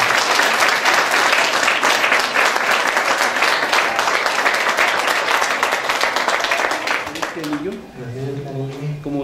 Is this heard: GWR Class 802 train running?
no